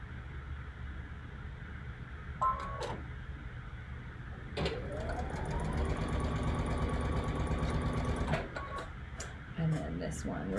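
A sewing machine stitches quilt pieces in a steady mechanical whirring run lasting several seconds, with short starts and stops and handling clicks around it. The sound is close and moderately quiet.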